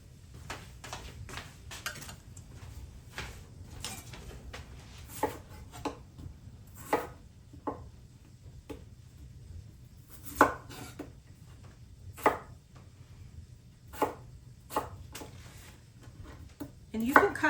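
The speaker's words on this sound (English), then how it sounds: "And you can cut these as big or small as you want" A knife chops vegetables for a creamy vegan soup on a cutting board, giving irregular, sharp thuds spaced a second or two apart over a low background hum, close and clear.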